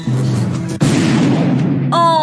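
A single sharp gunshot bursts out of a film, loud and close, cutting through a low rumbling soundtrack and trailing off into a noisy tail.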